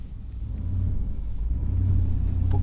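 A Ford Focus converted into a monster truck drives off-road through bushes, giving a low engine rumble that builds and holds steady with faint rustling and no speech.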